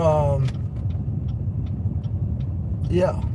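Cars idling and moving along in a school car line, a low steady rumble throughout with a voice talking at the start and end.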